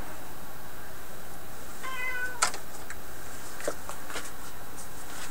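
A house cat gives one clear, short meow in a quiet indoor workshop, with a couple of faint clicks and knocks around it and steady low background hiss.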